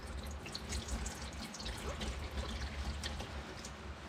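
Engine oil from a 2018-2020 Ford F150 3.5 EcoBoost drains during an oil change and spills onto a polyurea floor, making a steady, faint, close trickling splash with no talk.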